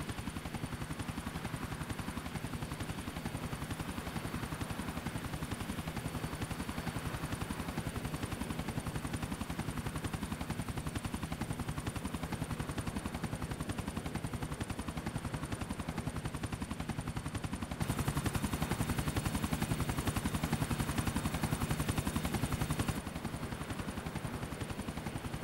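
A helicopter lands in the video game Grand Theft Auto 4, heard as a steady, dense rotor thump and engine drone that runs throughout and swells briefly louder near the end.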